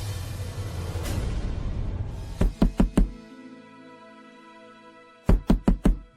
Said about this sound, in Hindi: रोशनी, दरवाजा खोलो यार